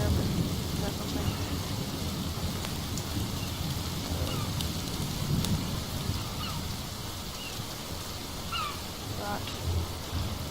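Steady rain falls through a forest, a soft continuous hiss and patter with a few faint distant rumbles and stray calls behind it.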